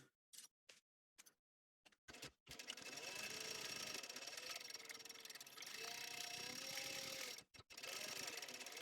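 A sewing machine basting around the edge of a laptop bag, first a few short bursts with pauses, then long continuous whirring runs up close, broken by one brief stop near the end.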